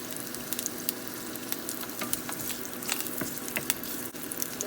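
Ginger and garlic fry in hot oil with a constant, dense sizzle and scattered pops and spatters. The sound is close and even, with no talking.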